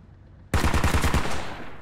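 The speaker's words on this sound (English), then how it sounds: "Both the MRAPs are now firing on this BTR." Vehicle-mounted machine guns on MRAPs in Squad open fire on a BTR: after a quiet half second, a sudden loud burst of about seven rapid shots, followed by a lingering echoing tail.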